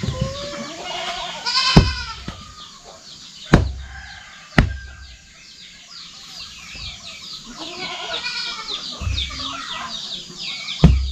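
Goats let loose in a rural Indonesian farmyard bleat repeatedly and fairly close, several wavering calls spread across the stretch, mixed with clucking fowl and a few sharp knocks in between.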